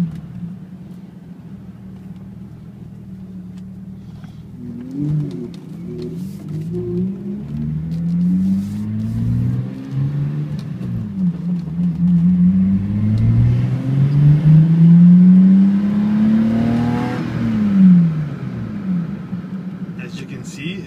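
Engine of a 1991 BMW 325ix all-wheel-drive car revving up as it gets up to speed, a low rumble climbing in pitch through several gears, heard from inside over steady road noise.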